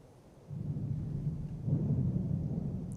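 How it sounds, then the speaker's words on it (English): Low rolling thunder from a severe spring thunderstorm with heavy rain and lightning over Macon, Georgia, rising after a brief quiet start into a sustained rumble, fairly distant and steady, with no voices. "We have tons of rain, but we also have tons of lightning out there."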